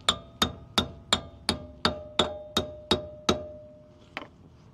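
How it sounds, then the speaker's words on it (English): Ten sharp metallic hammer strikes on the rear wheel hub of a 2003 Toyota Corolla at a steady rhythm with ringing decay, then a pause and one lighter final tap; close and fairly loud. "See if you can hammer out the hub in the center."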